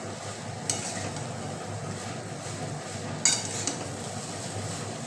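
Scrambled eggs with onion, garlic and ginger paste are stirred in an oiled pan for veg chowmein, a low continuous sizzle with occasional sharp clinks of a utensil against the metal pan.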